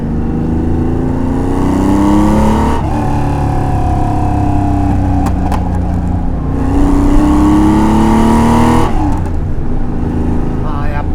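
A Porsche 911 T SC with an RSR-spec fuel-injected engine drives on Tokyo streets, its engine droning and rising through gears with steady revs under the cabin, while someone talks over it.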